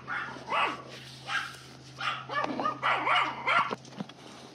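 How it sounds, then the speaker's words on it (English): Several dogs bark and yip in a garden, a run of sharp barks and short yelps at moderate distance over a steady low hum, with no talking. "That's Nye over there with the dogs."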